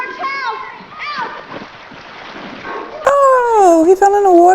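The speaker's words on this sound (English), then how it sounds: "Oh, he fell in the water." A boy falls into water in a 1946 film scene, making a loud sudden splash as children shout and cry out nearby.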